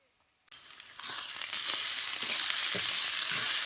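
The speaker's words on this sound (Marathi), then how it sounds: "वाटलेलं त्याला चांगलं भाजून घ्या" Ground chana and masoor dal paste roasts in oil for zunka on a wood-fired stove. After a brief quiet, a loud, steady sizzle starts abruptly, with occasional stirring scrapes.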